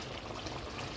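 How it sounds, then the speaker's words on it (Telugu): Mango fish curry bubbles in a pot, a dense, steady simmering hiss and gurgle heard close up for a moment, with no voices. "ఇదిగోండి ఉడికిపోయింది చేపల కూర."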